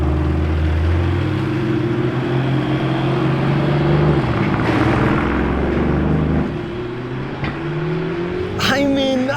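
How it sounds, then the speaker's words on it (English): Lamborghinis, a very loud Urus and a Temerario, drive past with engine rumble and revving swelling and fading, nearby and loud, amid outdoor crowd noise. "we already have a couple interesting Lambos driving by. Very loud Urus"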